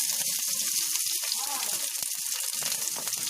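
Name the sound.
frying bay leaf, onion and capsicum in a pan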